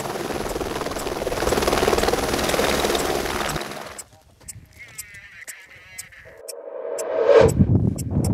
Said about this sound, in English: is a helicopter. It's got a long line on it